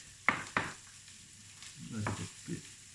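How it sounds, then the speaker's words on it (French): Carrots and onions frying in a pan, with two sharp clacks of a spoon against the pan early on, then scraping stirring strokes and a faint sizzle underneath, close and fairly quiet, with no talking. "Remuez surtout les carottes et les oignons. Faut pas que ça crame."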